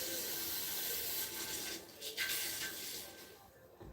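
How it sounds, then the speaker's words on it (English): Hot cast metal hissing and sizzling as it is quenched into ice, a steady close broadband rush with brief bursts of crackle and a fading tail. "Here's that good sound if you're a Quenching fan. That's into the ice."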